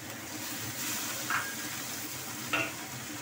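Chili peppers drop into a frying pan of Chinese cabbage, with a steady soft sizzle of frying and two brief stirring scrapes, close and moderately quiet.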